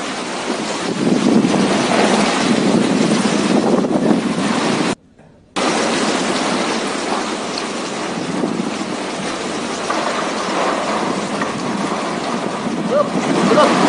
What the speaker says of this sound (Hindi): तेज रफ्तार हवा, तूफानी बारिश और समुद्र का पानी जो ऊंची ऊंची लहरें बनकर डरा रहा है।